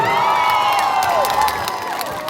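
Cheering and applause from a concert crowd in Ufa after a performance, a steady roar of clapping and shouts with a tonal ringing layer, loud and continuous throughout.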